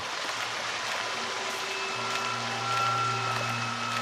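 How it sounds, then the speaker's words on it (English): Steady rushing water from a waterfall in a horror video game pours continuously, a constant roar with a faint low hum underneath. "Got a waterfall next to their house."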